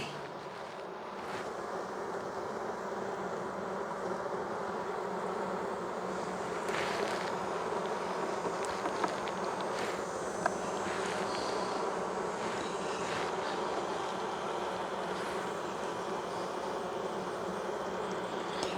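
A dense, steady drone of many honeybees buzzing together inside a hive, close and continuous, with faint occasional knocks and no voices.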